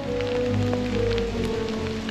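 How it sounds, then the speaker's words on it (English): Heavy rain pours down outdoors during a thunderstorm with a little hail, a steady, dense wash of sound that stays loud and even throughout with no talking. "We just got a heavy downpour of rain"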